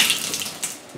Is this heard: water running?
yes